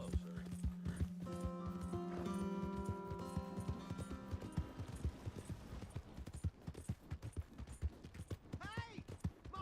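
Hooves clip-clop steadily from a horse in the Red Dead Redemption 2 western game, starting softly under a droning tone and growing louder and quicker, with a whinny near the end.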